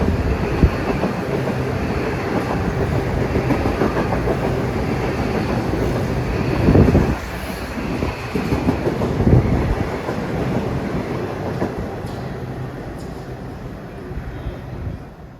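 A deadheading New Haven Line train, number 402, runs from Stamford toward Grand Central past Mamaroneck, a loud continuous rumble of wheels and cars rolling by close, with a heavier surge midway and a steady roar that eases slightly toward the end.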